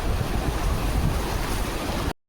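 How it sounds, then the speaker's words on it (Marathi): Water rushes steadily past a village dam in a loud, continuous broadband roar. It sounds close and unbroken, with no voices, then cuts off abruptly at the end. "हे बघा होय पाणी बघा कसलं एकदम जातात असं"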